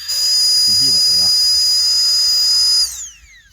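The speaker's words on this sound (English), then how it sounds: "So let's go on and get this pad pumped up, see how long it takes." Compact electric air pump inflating a sleeping mat at a wild winter campsite in Scotland, a steady loud whine with high tones that runs evenly, then drops away as the motor winds down near the end; brief low voice sounds early on.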